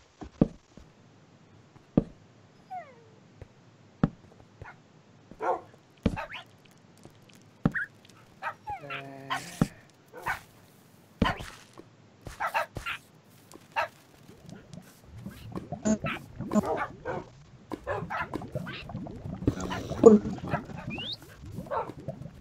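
Dogs bark in short scattered yips and woofs while following the player through a Minecraft-style zombie game, with other game noises and a busier stretch of sounds toward the end.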